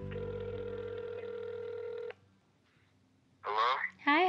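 A phone line tone sounds steadily for about two seconds, then cuts off. After a brief quiet gap, a person starts talking close to the phone.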